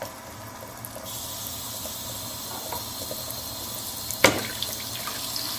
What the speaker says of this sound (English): the sink is being filled with water